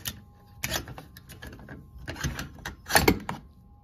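Metallic clicks and clacks from an AR rifle being taken apart, its detent popped out, the receiver opened and the bolt slid free; a series of sharp close-up snaps and rattles at an uneven pace, with no talk.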